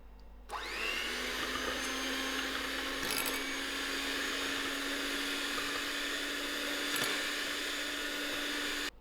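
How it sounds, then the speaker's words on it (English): An electric hand whisk runs continuously at steady speed, whipping cold cream toward soft peaks for a peppermint crisp tart, with a couple of brief clatters as the beaters knock the bowl. "I've got my electric whisk, which I'm going to use to whisk up my cream till it is at a soft peak."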